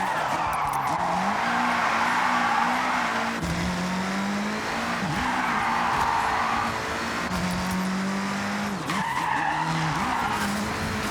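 A rally car roars steadily through a Japanese rally stage in Forza Horizon 6, its engine droning continuously with tire skids and gravel scrabble layered over it, loud and close the whole time.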